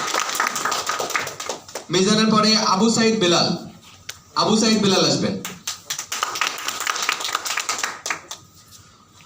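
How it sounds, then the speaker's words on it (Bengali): An audience claps in two strong, dense bursts of applause at a gathering, surrounded by sparser scattered claps, with someone speaking through the pauses. "জোরে হাততালি"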